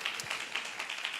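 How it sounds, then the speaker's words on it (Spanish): A church congregation at an evening Spanish-language service on the last night of the year applauds, a dense, moderately faint patter of many hands with no voices over it. "Denle ese fuerte aplauso al Señor en esta noche"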